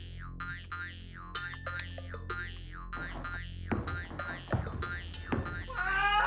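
Repeated cat screams and meowing yowls from the video game Alone in the Dark 3 come in a rapid string of rising and falling wails over a low electronic drone, ending in a harsher burst.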